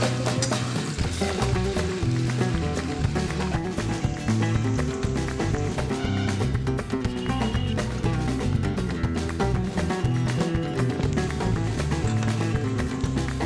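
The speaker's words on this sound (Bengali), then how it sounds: "মা মাংস রান্না করার জন্য পেঁয়াজ ভাজতে শুরু করে দিয়েছে" Onions frying in a pan as the base for mutton kosha make a dense, loud, unbroken sizzle with busy crackle running the whole length, close up.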